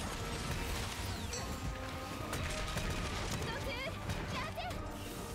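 A dense barrage of explosions and crackling blasts from the Monster Hunter Rise battle against Valstrax, loud and continuous, with game effects layered throughout.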